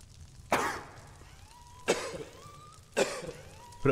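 A video game knight character gives four sharp coughs at roughly even intervals, each one brief and harsh, with quiet game music between them.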